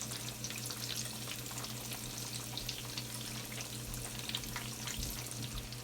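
Eggplant slices for eggplant parmesan fry in a pan with a steady, dense crackling sizzle, continuous and close throughout, without any talking.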